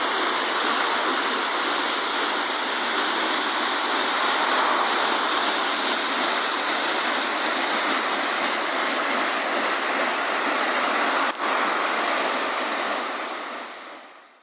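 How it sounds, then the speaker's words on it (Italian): Argenio waterfall pouring down in a steady, loud roar of rushing water, a broad continuous wash of spray that fades out only at the very end. "La cascata di Argenio! Che spettacolo con tutta quest'acqua!"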